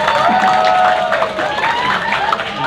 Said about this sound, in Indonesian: Tepuk tangan juga untuk Pak Rey